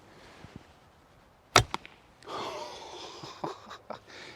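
A sharp snap of a short Tatar bowstring releasing an arrow, followed by a faint twang and soft breathy rustles, quiet and close.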